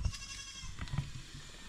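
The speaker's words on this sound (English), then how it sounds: "She's getting the goats to leave." Goats bleating in the Philippines, a few short, close bleats scattered over a brief moment, with faint background noise.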